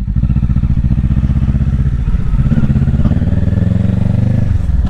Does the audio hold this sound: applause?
no